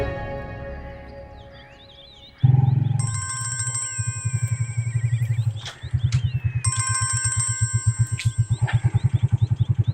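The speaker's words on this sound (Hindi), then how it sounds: "ये किसका फोन आ गया?" A mobile phone ringtone plays a bright repeating electronic melody in a TV drama scene, loud and close, cycling through two phrases over a pulsing throbbing backing.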